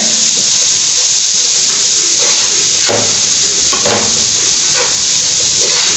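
Green chillies sauté in a pan for Mongolian rice with a steady loud sizzle, close, with occasional stirring scrapes and clinks over the continuous hiss.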